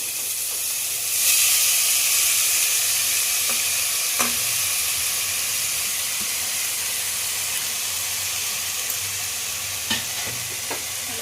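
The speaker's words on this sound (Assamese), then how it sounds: "এতিয়া ধুনীয়াকৈ এনেকৈ লৰাই থাকিব লাগিব যাতে তলত লাগি নাযায়।" Steady hiss of grated coconut and sugar sizzling in a hot wok for coconut laddoos, with occasional scraping clicks from stirring, no talking.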